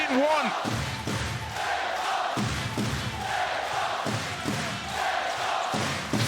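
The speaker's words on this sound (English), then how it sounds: "the crowd up on their feet, the bass drums being pounded, feet being stomped and hands clapped" Basketball arena crowd at a EuroLeague playoff game, AS Monaco vs Fenerbahce, on their feet cheering loudly with pounding bass drums, stomping feet and clapping in a steady rhythmic roar, with a commentator's voice over it.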